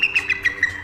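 An eagle's call rings out as a quick run of sharp, high whistled chirps in short bursts, close and clear with no voices.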